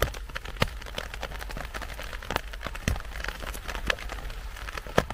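Rain comes down during a cold mushroom-picking outing at about 6°C, gathering black mun pu and sweet bee mushrooms: a faint, steady patter with scattered sharper drips and taps throughout.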